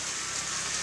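Steady rain falls as a dense, even hiss with no pauses, filling the short stretch without any voices.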